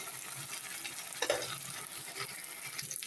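Ginger garlic paste frying in a pan for rajma masala, a steady close sizzle with a brief stir or clatter near the middle, no voices.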